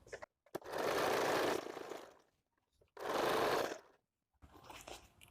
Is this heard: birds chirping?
no